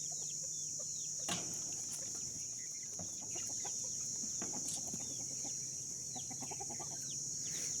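Scattered clucks and short fowl calls over a steady high-pitched insect-like drone, with a louder squawk near the start and soft rustling throughout.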